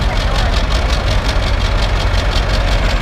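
A three-wheeled motorcycle fitted with a CAT eight-cylinder engine idles close by, a loud, steady, throbbing rumble with an even rapid pulse that holds unchanged throughout.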